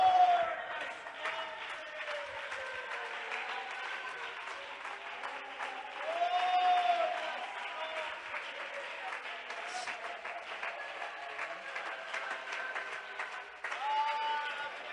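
A Spanish-speaking church congregation applauds, a soft, continuous wash of clapping from a large room that sits under sustained tonal music, steady throughout with a slight swell midway and near the end.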